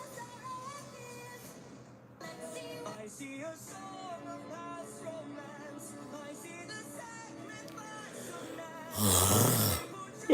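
A man lets out a long, loud yawn on a live stream. It comes near the end as a breathy burst over soft background music.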